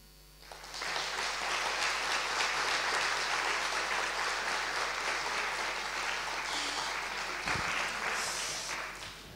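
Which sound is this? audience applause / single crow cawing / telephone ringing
audience applause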